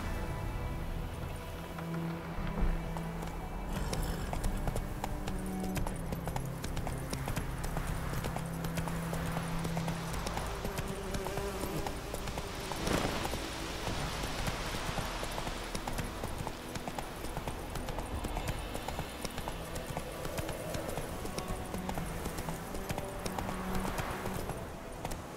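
Roach the horse gallops in The Witcher 3, a steady rapid clip-clop of hooves continuing throughout at moderate volume alongside game ambience, with no talk over it.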